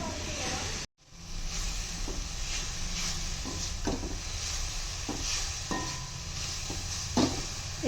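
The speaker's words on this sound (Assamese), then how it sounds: "চেনিৰ ৰসটো শুকাই নোযোৱালৈকে আমি ভাজি থাকিম।" Grated coconut fries in sugar syrup for a coconut poha sweet, a low steady sizzle with intermittent stirring scrapes and knocks in the pan after a brief cut near the start.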